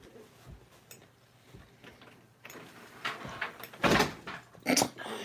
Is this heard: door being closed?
yes